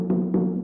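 A Nankasa drum from an East African drum ensemble plays an attention beat, two sharp struck accents about a quarter second apart over a sustained resonant ring, close and loud.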